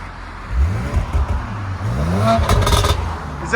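A 2019 Audi RS5 with a 2.9L twin-turbo V6 and full aftermarket exhaust, valves closed, revs loudly nearby in several quick blips, each rising and falling in pitch, with a raspy burst toward the end.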